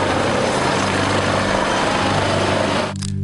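Helicopter rotors and engine roar loudly and steadily at close range as the aircraft depart after a presidential visit in Ocoa, with a thick, pulsing drone that drops off abruptly near the end.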